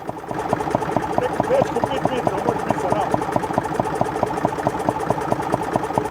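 A 1962 IMT 533 tractor engine runs with its power take-off engaged, a steady rhythmic diesel chug with fast regular knocking pulses, close and continuous, while someone talks over it.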